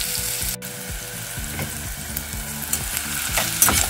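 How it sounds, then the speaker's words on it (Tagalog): Onion frying and browning in a pan, a steady close sizzle with rhythmic stirring scrapes and no talk. "Pagkatapos ay ilagay natin ang ating onion. Gawin natin siyang brown."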